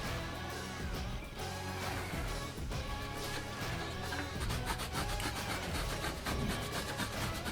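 Sandpaper worked by hand over a wooden chair seat, a continuous close scratchy rubbing that speeds into quicker, shorter strokes toward the end, with no voices.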